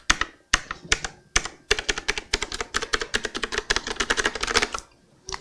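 Keys clack on an Azio Retro Classic Bluetooth keyboard with round typewriter-style keys, sharp and close, at first in separate presses and then in a quick run of typing with short pauses.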